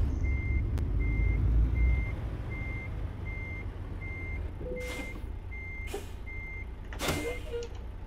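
A truck in American Truck Simulator reverses with an evenly spaced backup beeper chirping over a low diesel idle. Several short hissing air bursts follow near the end.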